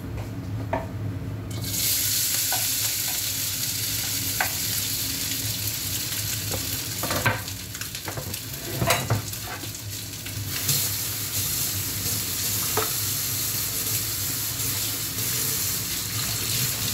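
Food frying in hot oil in a home kitchen, a steady loud sizzle running throughout, punctuated by clinks and scrapes of stirring with a utensil in the pan.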